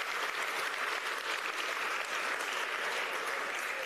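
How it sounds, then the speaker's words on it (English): An awards-night audience at a sports awards ceremony applauds to thank the judging panel, a steady, dense wash of clapping filling the whole stretch without pause. "the last round of applause we have to do tonight is to thank our panel members"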